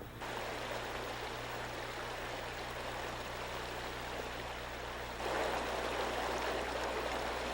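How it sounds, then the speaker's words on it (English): Hope Creek rushing steadily into a wide opening in frozen lake ice in the wilderness, a constant broadband wash of flowing water that swells louder near the end. "Hope Creek has cut a big opening into the lake ice."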